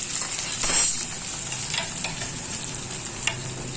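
Slit green chillies sizzle and fry in a pan while being stirred for mutton keema rice, a steady close hiss with occasional scraping stirs and no talk.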